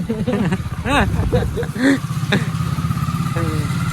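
A motorcycle engine drones steadily at close range throughout, with people talking loudly over it.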